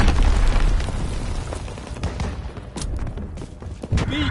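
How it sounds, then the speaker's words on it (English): Enemy mortar fire in a video game battle, a rumbling mix of booming explosions and crackling gunfire, loud and close, with bursts rising and fading throughout. "Enemy mortar fire incoming."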